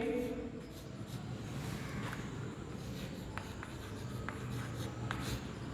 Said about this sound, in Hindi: इसकी परिभाषा लिखेंगे